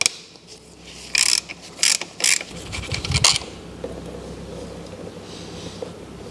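A ratchet wrench clicks as it removes an 8 mm bolt from an oil line on a Yamaha WR450F dirt bike. Several close, sharp bursts of ratcheting follow one another, then give way to quieter background noise.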